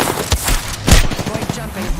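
Gunfire in a shooter video game cracks out in sharp bursts, with a couple of loud impacts among quicker rattling shots, mixed under a player's talk.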